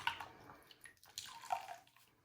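Water splashes and gurgles softly as a makeup brush is rinsed under running water in short, uneven bursts, fairly quiet and close.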